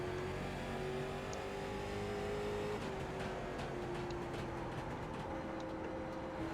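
A late model stock car engine in the iRacing sim drones at steady high revs, a continuous whining roar with slight pitch shifts as the car works through corners, with no talk.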